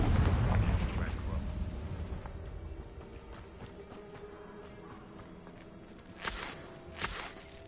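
Blasting spell explosion in the video game Hogwarts Legacy, a loud rumbling burst at the start that fades out, followed by a couple of sharp pops later, with a game character's voice.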